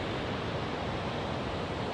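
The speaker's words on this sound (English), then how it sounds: "not only am I listening to the ocean in the background, but I'm at Surfers Paradise in Gold Coast, Australia" Ocean surf at Surfers Paradise on the Gold Coast, Australia: a steady, broad wash of breaking waves, constant and loud, with no distinct individual crashes and no one speaking.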